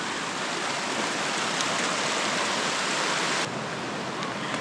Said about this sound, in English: This is fresh glacier water.